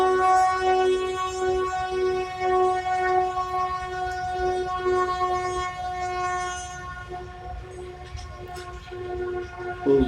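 A train passes near a station, its horn sounding in long sustained tones over a rumbling, rattling roll of wagons, with faint voices in the background.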